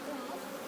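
Honeybees hum around an open hive being inspected by beekeepers, a close, steady buzzing drone with no talk over it.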